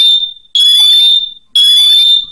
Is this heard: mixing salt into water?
no